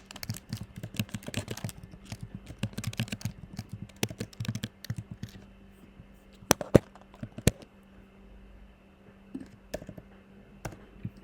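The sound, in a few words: typing text on a computer keyboard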